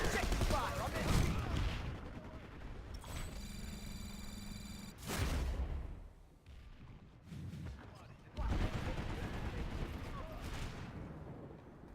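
Bursts of video game gunfire crackle in several dense volleys with brief gaps between them, with a short electronic tone partway through and radio-style voices calling out among the shots.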